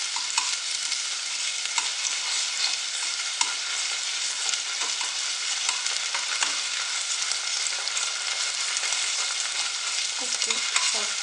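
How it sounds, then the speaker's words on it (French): Tomato sauce being stirred into onions frying for a Turkish lentil soup, a loud, dense, continuous sizzle with faint stirring scrapes throughout and no talking. "Et je vais lui ajouter aussi ma tomate, ma sauce tomate. Je vais mélanger le tout."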